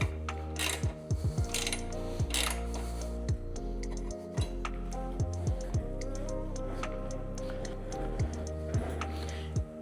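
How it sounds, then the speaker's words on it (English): A ratchet tightens a bolt on Protek motorcycle crash bars, giving rapid, close clicking strokes in uneven bursts over a low steady background hum. "Keep a hand on it as you finish out this bolt."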